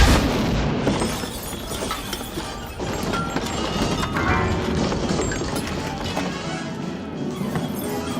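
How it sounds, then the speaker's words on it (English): Confetti cannons fire amid a loud, dense burst of crackling pops and rustling that fills the whole stretch, dropping off briefly near the middle before continuing, close and busy, with faint voices mixed in. "Just confetti cannons, I guess."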